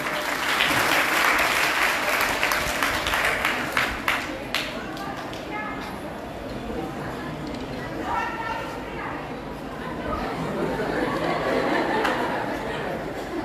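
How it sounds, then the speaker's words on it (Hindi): An audience at a public event breaks into loud, sustained applause with crowd chatter underneath, the clapping swelling, easing slightly, then building again throughout. "इनके लिए तालियां बजाइए भाई"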